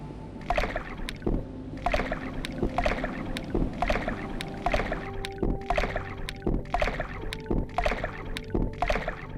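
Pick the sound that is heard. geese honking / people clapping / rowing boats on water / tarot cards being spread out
rowing boats on water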